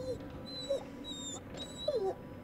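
A dog whimpers in the horror video game The Devil In Me, giving a few faint, high, thin whines spread over a low ambient hum.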